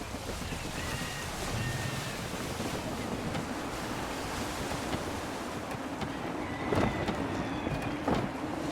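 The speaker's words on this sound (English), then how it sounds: "Wind looks to be shifting. Stay alert, Connor. Gusty winds can be difficult to manage." Gusty wind rushes over open water in Assassin's Creed III, steady and loud with rolling surf and a sailing ship's creaks, with brief gusts swelling near the end.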